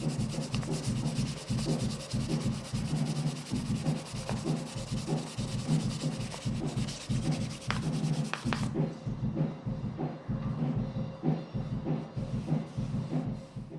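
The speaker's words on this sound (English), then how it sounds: "So I usually do it by hand and sand very, very lightly." Rhythmic back-and-forth hand sanding of an electric guitar's finish, light strokes repeating steadily and close by, a scratchy rubbing texture with no one speaking.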